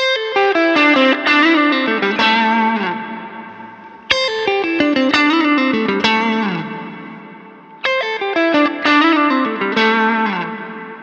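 Electric guitar played through a Hot Cake overdrive pedal on its round amp setting, giving a driven, mid-heavy tone; strummed chords ring in three repeated phrases, loud and close with no talking.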